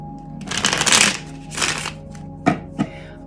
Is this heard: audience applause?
no